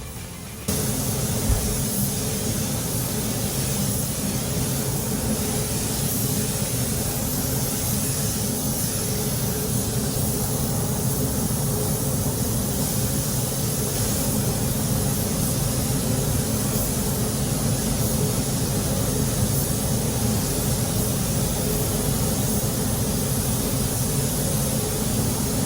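Spray gun painting the doors of a classic Mk5 Ford Escort, a loud, steady hiss of compressed air and atomized paint that continues unbroken throughout.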